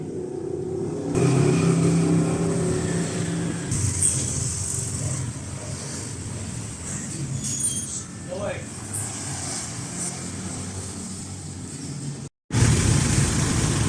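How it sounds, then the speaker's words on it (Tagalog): A Mitsubishi double cab's overhauled 4D56 diesel engine idles with a steady low rumble, heard nearby beneath someone talking throughout, with a brief cut near the end. "general overhaul ang ginawa dito sa 4D56 diesel engine"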